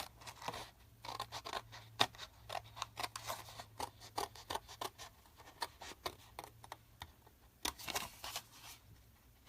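Scissors cut paper for a craft box in a long series of quick, sharp snips close at hand. Paper rustles faintly between the cuts.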